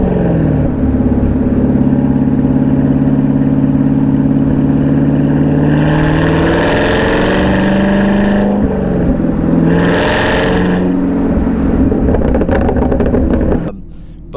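A 2023 Camaro ZL1 engine with a new valveless exhaust idles loud and deep, then revs up twice in rising roars before settling back and cutting off near the end.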